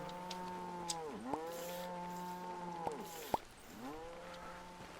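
Beef cattle in the Old Market Simulator farming game low repeatedly, several drawn-out moos overlapping and following one another with brief clicks between, clear and fairly close against a quiet background.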